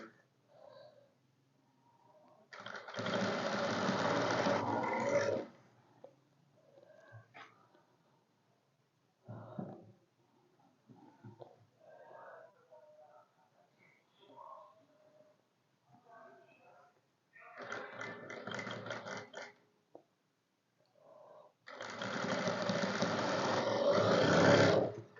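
A sewing machine stitches lines spaced an inch apart across fabric, running in three loud whirring bursts of a few seconds each. Quiet talk fills the gaps between bursts.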